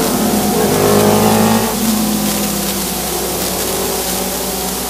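Race cars roar through a ten-lap short track qualifier for lights-class racing, a loud, continuous engine drone with rising revs early that settles into a steady, dense roar of several cars together.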